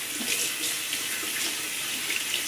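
Water runs from a bathroom tap while a shaving brush is rinsed under it, a steady close hiss of flowing water with slight splashy fluctuations throughout.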